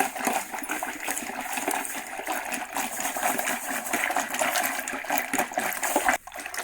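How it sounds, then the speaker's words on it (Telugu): Buttermilk mixed with water is churned by hand with a wooden churning stick to make butter, a continuous sloshing, splashing liquid agitation heard close up with no voices. "పోసుకున్నాక ఇలా మజ్జిగ చిలకాలండి"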